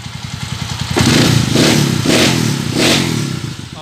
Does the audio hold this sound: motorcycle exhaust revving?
yes